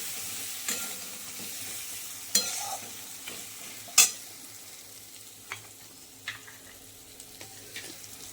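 Mutton being stirred and fried in a kadai for a wedding-style curry: a steady sizzle with repeated scraping strokes of a spoon, sharper clanks at intervals, close and with no voices.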